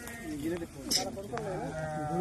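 Sheep bleat in a dry, drought-hit field, several wavering calls close by, with people talking over them.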